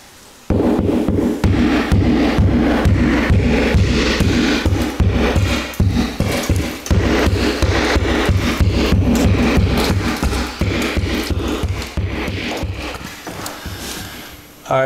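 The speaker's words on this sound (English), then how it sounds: "now what you want to do is get your favorite hammer and start opening this up here" A hammer pounds steadily and loudly at a wall being opened up for a Buck Stove model 91 installation, with rapid repeated knocks and cracking material that carry on almost without a break.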